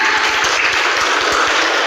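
Brief burst of classroom clapping for a student during an Indonesian accounting lesson, dense and even for just under two seconds.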